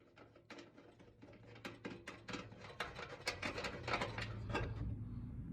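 A ratchet wrench removes nuts and bolts from the crash-damaged front fender of a Mazda Miata race car, making quick runs of close, crisp clicks that grow denser and louder toward the end.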